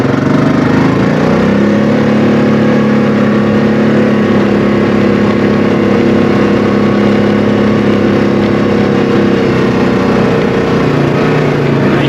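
UTV engine running loud and close as it sets off on a lakeside ride past cabins, a steady mid-pitched motor drone that holds fairly even throughout with no talking.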